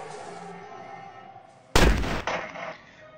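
A single loud, sharp sniper rifle shot in the video game Block Fortress rings out after a quiet stretch of game ambience, followed by a softer second report as the sound decays.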